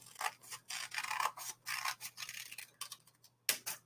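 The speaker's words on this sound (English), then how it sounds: "I'm going to cut it back open right on that line again." Scissors snip through folded paper for a craft, a series of short crisp cuts in quick bursts, close by and fairly quiet with no talking.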